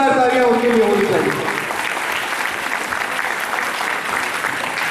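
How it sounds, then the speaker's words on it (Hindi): Audience applause at a drama festival event, breaking out loudly as a speaker's voice trails off in the opening second, then sustaining as steady broad clapping through the rest. "एक बार जोरदार तालियां उनके लिए होनी चाहिए।"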